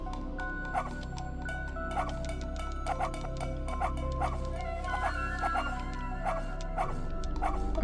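Repeated short barks from a Shiba Inu in a video game, triggered at a regular rhythm over quiet game music, close and clear.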